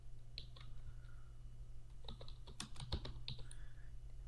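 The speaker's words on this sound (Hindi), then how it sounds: "तो मैं यहाँ पे एंटर प्रेस करूँगा।" Computer keyboard keys tapped in short scattered bursts while working on bullet lists in Microsoft Word, close and quiet, with a few sharper clicks standing out among the softer presses.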